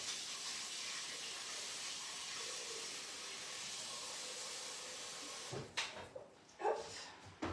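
Tap water runs steadily into the bowl of an All Clad cooking robot for a wash cycle, a constant hissing stream that cuts off near the end, followed by a few short clunks.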